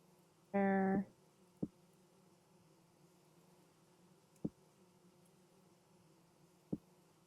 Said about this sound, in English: all that I hear to the side of me is bees